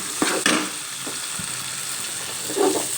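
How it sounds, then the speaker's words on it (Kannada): Green chillies fry in a pan with a low continuous sizzle, a couple of sharp stirring scrapes at the start and a brief louder burst of crackling near the end. "ನಂತರ ಈ ಒಂದು ಹಸಿಮೆಣಸಿನಕಾಯಿಯನ್ನು ಸಹ ಒಂದು ಸ್ವಲ್ಪ ಫ್ರೈ ಮಾಡ್ಕೋಬೇಕು"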